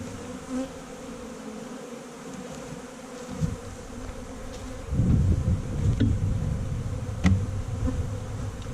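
Honey bees buzzing at a hive, a continuous low hum close by that swells louder partway through, with a few brief sharper sounds on top and no talking.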